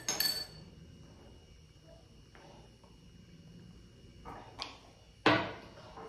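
A small spoon clinks against a glass while ginger powder is stirred in, with a few sharp bright taps spread out over quiet room tone.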